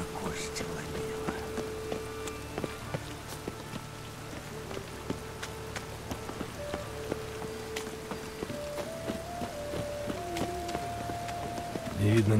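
Continuous rainfall in The Witcher 3, a broad even hiss of drops on surfaces with faint tonal background music threading through and a low murmur at times, steady and unbroken from start to finish.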